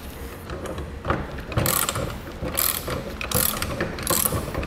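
A ratchet wrench fitted with a 19 mm socket loosens a bolt on a Dutton-Lainson trailer winch miter gear assembly, producing repeated close clicking strokes in an irregular rhythm, with no speech.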